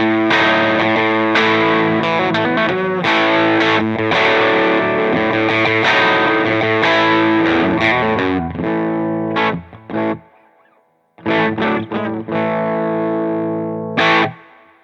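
An electric guitar played on its bridge pickup through a Small Speaker Overdrive pedal, giving a loud, gritty, overdriven tone. Chords ring continuously, then break into short stabs separated by brief silences near the end.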